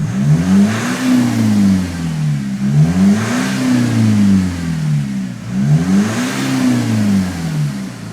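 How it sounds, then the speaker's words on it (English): A remapped Nissan X-Trail engine with EGR and DPF deleted, prone to misfire at 3000 RPM, revs in three rising and falling surges, its pitch swooping up and down steadily, loud and close with no talking. "I did hear the tone of the engine changing."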